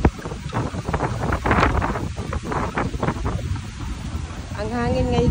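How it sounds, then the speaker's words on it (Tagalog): Gusty wind buffets the microphone in heavy, uneven bursts at Shangri-La Mactan, Cebu, with faint voices and a short tonal whine near the end. "Ang hangin ngayon itong araw na ito."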